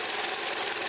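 A car engine running while being checked for overheating, a steady mechanical whir with a hissy, buzzing texture that stays constant and close, with no voices.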